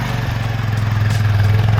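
Motorcycle engine on a rocky mountain trail above a river, a steady mid-pitched drone that holds close and loud throughout, with faint clatter and no speech.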